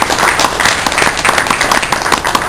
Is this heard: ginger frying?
no